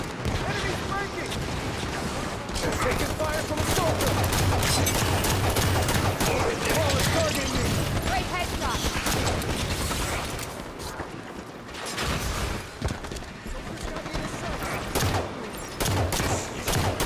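Sustained video game gunfire in a Halo 5 Guardians campaign battle at an AI-held base, dense overlapping shots and bursts throughout, with a brief lull midway, while a player talks over it.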